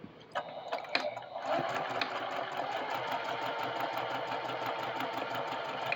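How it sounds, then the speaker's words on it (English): A sewing machine chain pieces fabric after a few faint clicks of the presser foot, then runs in a steady, moderately quiet mechanical whir without pause. "Lift the presser foot. Continue sewing."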